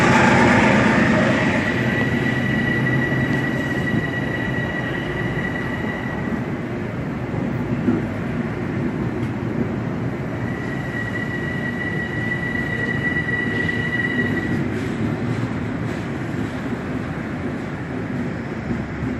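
Metro North Hudson Line train passing Croton-Harmon at night, a steady loud rumble of wheels and cars running throughout with two sustained high squeals from the rails, no voices.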